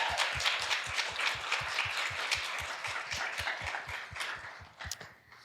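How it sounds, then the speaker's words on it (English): Audience applause for local indie authors at a book event, a steady wash of many hands clapping with a regular low thump underneath, fading slightly toward the end. "give yourselves a round of applause"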